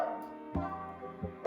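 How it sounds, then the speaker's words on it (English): Dogs barking indoors, a few short, fairly quiet yips and barks spaced about a second apart, heard alone in the background. "my dogs are barking"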